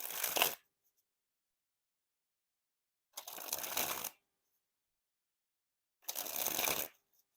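Fulton's Day of the Dead playing cards sprung from hand to hand in three separate bursts of soft, rapid riffling flutter, each about a second long and separated by silence, close and clear.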